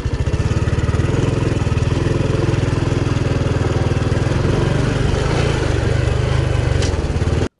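A rented semi-automatic motorbike chugs along a back road in Thailand toward Pai, its small engine putting out a loud, steady close-up throb before cutting off abruptly at the end.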